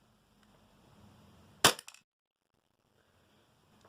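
A Tokyo Marui Glock 26 gas blowback airsoft pistol fires a single sharp, close crack loaded with 0.2 gram BBs, followed by a brief rattling tail of the slide cycling, then near silence.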